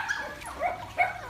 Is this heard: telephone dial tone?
no